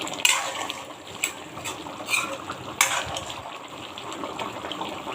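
Water pours into a pot of taro (gati kochu) curry with a gushing, splashing rush, dotted with a few sharper splashes and knocks along the way.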